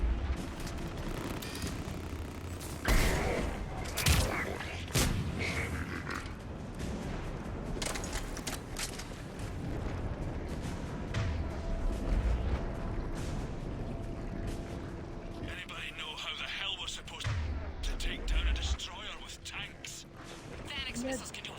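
Missile explosions and gunfire in a video game, with bursts of shots and heavy booming blasts scattered over steady battle noise while a person talks over much of it.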